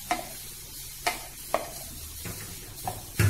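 Paneer bhurji with crushed kasuri methi is stirred in a pan: about half a dozen spaced spatula scrapes and knocks against the metal over a faint, steady sizzle.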